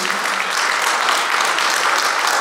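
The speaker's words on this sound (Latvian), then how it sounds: "par to viņām aplaus" Loud, steady applause from a concert audience for a dance group celebrating its anniversary, dense continuous clapping filling the whole stretch with no pauses.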